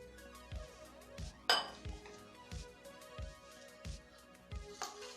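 A spoon scrapes and clinks against a bowl while fresh lemon juice is stirred into chana chaat, with repeated rhythmic knocks and one brighter metallic clang partway through.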